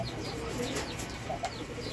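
Chickens on a rooftop farm clucking in short, scattered calls, with pigeons cooing nearby, all at a low level with the birds a little way off.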